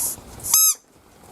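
A single short squeak from a small rubber pig dog toy, high and tonal, lasting a moment between quiet stretches.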